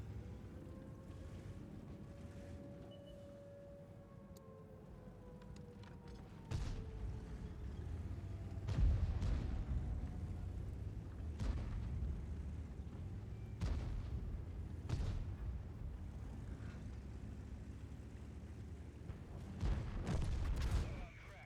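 Tank cannon shots in a World of Tanks match: several heavy booming reports spaced a few seconds apart over a steady engine-like rumble, with someone talking at times between them.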